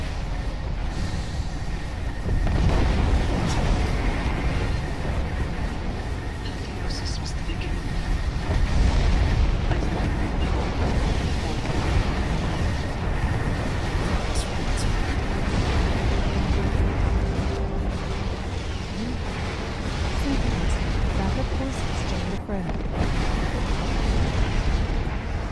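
Spaceship weapons fire and explosions from a Cylon fleet battle in Sins of a Solar Empire rumble continuously, dense booming bursts stacked over one another, with occasional voices talking beneath.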